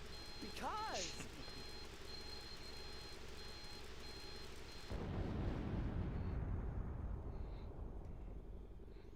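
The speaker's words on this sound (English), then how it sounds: "when something is beeping, that ain't good" In the video game Tales of Eternia, evenly spaced electronic beeps of an alarm repeat steadily at moderate volume over game sounds, and a heavy rumbling burst takes over partway through.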